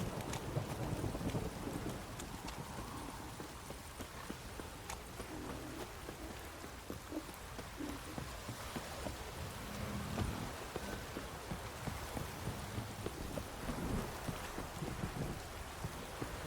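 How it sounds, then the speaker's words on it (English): Rain and thunder in the video game The Witcher 3: Wild Hunt form a steady, dense downpour with low rumbling thunder beneath it, constant and fairly close for the whole stretch, with no talk. "This downpour's a bastard"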